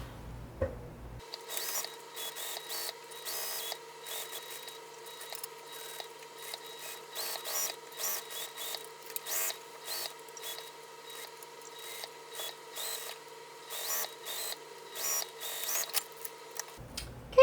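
A sewing machine stitches a satchel gusset, running steadily with a rapid, rhythmic mechanical whirr and repeated clatter for most of the stretch, stopping at the end.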